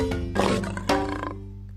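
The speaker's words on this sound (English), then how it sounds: "I hear a lion roaring in my ear." A lion roars in close, heavy bursts, one strong rising roar followed by a second, then fading into a low rumbling tail, used as an animal sound effect during a children's read-aloud.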